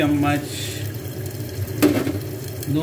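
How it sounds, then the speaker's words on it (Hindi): Tomatoes and onions frying in a pot for a Karachi-style mutton dish, a steady close sizzle with a few sharp clinks from a stirring spoon against the pot. "ये मेरे टमाटर और प्याज भून रहे हैं।"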